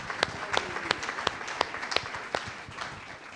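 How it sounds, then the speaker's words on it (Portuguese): Sparse, distinct hand claps ring out at a church service, roughly one every third of a second, fairly close and somewhat echoey, with faint voices underneath. "Uma salva de palmas ao Espírito Santo"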